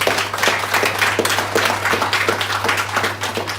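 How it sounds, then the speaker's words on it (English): A live audience at a devotional Radhastami gathering claps steadily and loudly for a speaker, dense continuous applause filling the room without letting up. "Let's give Prabhu a round of applause."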